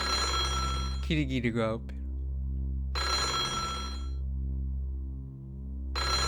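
A telephone bell rings in repeated bursts with gaps between them in the video game Kirigiri Sou, over a low steady music drone, while a voice speaks briefly near the start.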